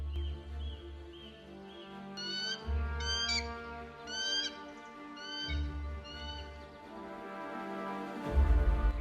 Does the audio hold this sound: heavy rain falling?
no